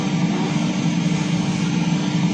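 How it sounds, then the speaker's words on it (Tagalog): A ship's main engine in a full-mission engine room simulator, being started while the vessel is readied from in-dock to port condition, gives a loud, steady low rumble and hum that fills the space without pause. "So pwede tayo mag-start ng makina."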